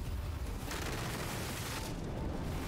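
An auto-aiming fire skill attack in the fantasy game Dragon's Dogma 2 hits with a deep, rumbling boom and a sustained fiery roar, loud and dense from start to finish without talk.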